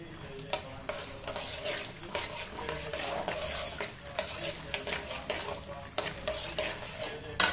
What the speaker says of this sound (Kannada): ನೋಡಿ ಎಣ್ಣೆ ಕಾದಿದೆ ಇವಾಗ ನಾನು ಸಾಸಿವೆ ಹಾಕ್ತಿದ್ದೀನಿ